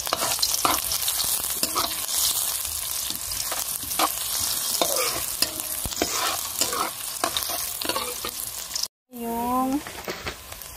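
Onion going into a pan with garlic already frying golden, a continuous close sizzle with repeated scraping stir strokes, a brief cut near the end, then a faint tonal sound.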